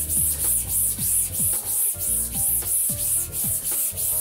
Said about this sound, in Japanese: 今度は縦に磨いていきます。